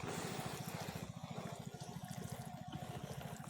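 Water poured onto a potted plant gives a steady close splashing trickle with a fast pulsing rhythm that runs unbroken and fairly loud, with no voices.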